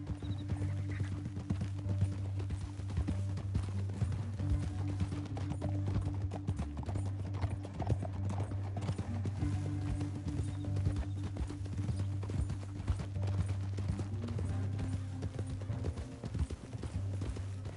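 Steady clip-clopping of horse hooves at a trot in the video game Red Dead Redemption 2, close and continuous, over a low rumbling background, with an occasional faint whinny.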